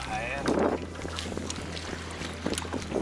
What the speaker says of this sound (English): the wind's blowing hard enough